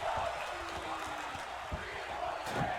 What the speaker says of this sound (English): You hear that crowd chanting,